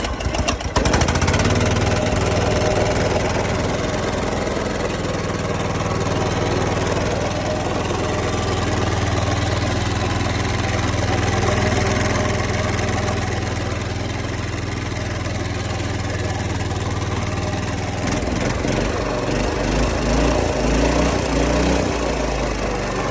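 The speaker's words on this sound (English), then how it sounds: "sound and the voltage of the generator" A generator engine runs steadily after a governor rod repair, a loud, continuous mid-low drone with a consistent hum that shifts slightly in tone near the end, close by and uninterrupted by speech.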